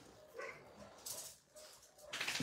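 Several dogs crowd a bedroom in the morning, making soft whimpers, whines and a few short yips in quick succession, quiet and close, with rustling movement between the sounds.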